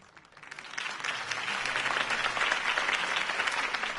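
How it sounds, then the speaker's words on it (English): Crowd applause after Harvey Dent's campaign speech in Telltale's Batman game: a soft ripple of clapping that swells within the first second into a steady, fairly distant roar and holds. "If only Mr. Wayne, my campaign's largest backer, could have heard that applause"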